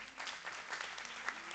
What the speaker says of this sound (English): a huge round of applause for a student volunteer